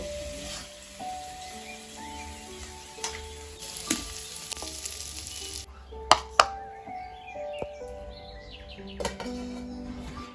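A steady sizzle of a paratha frying in a pan, with a few sharp clinks of utensils partway through and no one speaking.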